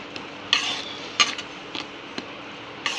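A spoon stirs thick tomato gravy in a pan with oil separating. Soft scraping is broken by four or five sharp metallic clinks against the pan, with no one speaking.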